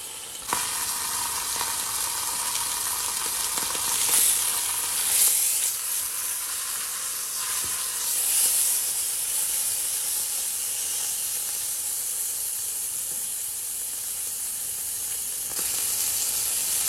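A beef roast sears in olive oil in a pan, giving a steady, close hissing sizzle that runs throughout with small fluctuations and a few faint clinks.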